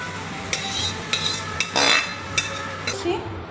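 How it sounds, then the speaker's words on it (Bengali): Mung dal is poured into a pot of fried bay leaf, dried chilli, whole garam masala, ginger, cumin, onion and garlic and stirred, with repeated metallic spoon scrapes and knocks over a faint sizzle. "এবার আমি ডালটা ঢেলে দিলাম"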